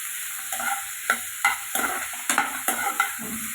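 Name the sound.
frying and stirring in a pan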